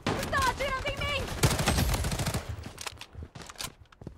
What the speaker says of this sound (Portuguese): Estão atirando em mim!